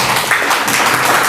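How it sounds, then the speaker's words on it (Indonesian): A classroom group applauds a student presentation, a dense, loud burst of clapping from many hands that holds steady throughout. "Kita beri tepuk tangan untuk kelompok 1."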